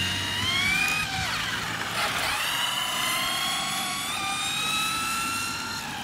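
Vintage Kyosho Turbo Optima Mid RC car driving, its small electric motor whining loud and steady with rising and falling pitch as it speeds past and swings around, no voices.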